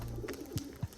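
Crested pigeons kept as pets give a couple of soft, low coos close by, brief and quiet against a faint background.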